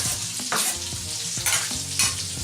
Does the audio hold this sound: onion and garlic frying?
yes